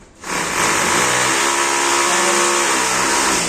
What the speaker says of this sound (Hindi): जिससे आवाज़ आ रही बिजली की मशीन